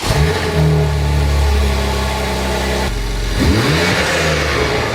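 A car engine fitted with a new cat-back exhaust revs up loudly twice, rising and falling around a steady idle, close and unaccompanied by speech.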